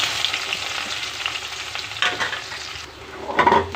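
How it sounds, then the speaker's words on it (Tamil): Drumstick (moringa) leaves crackle and sizzle in hot oil, with steady frying noise and a louder hiss near the end as they are stirred. "முருங்கைக்கீரை தான் பொரிக்க போகிறோம்."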